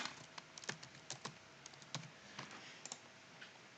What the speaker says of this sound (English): I'm going to type in my email address